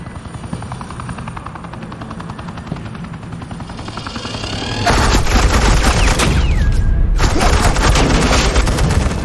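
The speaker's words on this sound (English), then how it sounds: "Suppressing fire." Sustained suppressing gunfire in Batman: The Enemy Within, a loud dense roar of rapid automatic shots that starts abruptly midway, breaks briefly, then resumes over the steady thrum of a hovering helicopter.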